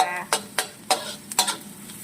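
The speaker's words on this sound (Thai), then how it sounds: "เจียวกระเทียมให้หอมก่อนนะจ๊ะ" Chinese garlic fries in a hot pan, a continuous close sizzle punctuated by several sharp scraping strokes of a spatula stirring it, with no talking.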